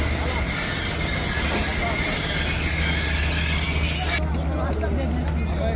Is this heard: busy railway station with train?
yes